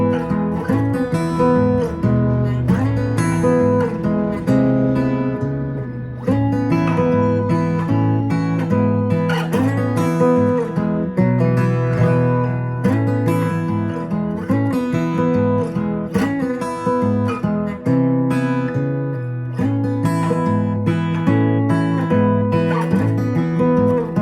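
An acoustic guitar plays section 3 of an instrumental, a busy fingerpicked passage with a constant stream of plucked notes, bass lines and harmonics, close and steady for the full length.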